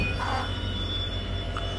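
The 06602 Madgaon Express pulls out of Surathkal on the Mangalore–Madgaon run with a steady low rumble of rolling wheels and carriages, continuous and moderately loud, with a faint high whine above.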